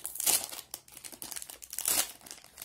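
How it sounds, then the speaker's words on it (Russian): A small plastic packet from a miniature-products unboxing being torn open up close, with loud, crisp crinkling and rustling in two bursts and lighter handling sounds between them. "давайте откроем вот этот крайненький пакетик и посмотрим,"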